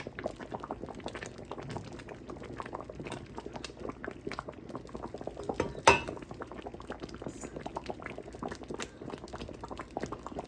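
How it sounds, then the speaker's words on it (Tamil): Payasam, a rice pudding made with large rice, bubbles in a pot, a continuous close gurgle of popping bubbles with one sharper clink partway through and no talking. "ஓரளவு பாயாசம் அவிஞ்சிட்டுது. வெள்ளையாக இருக்கிறது அவிஞ்சிருக்குது."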